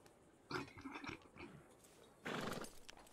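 Horse in the Red Dead Redemption II video game giving two short neighs or snorts, with a soft hoof-like clop between them, fairly quiet against a low background and with no talk.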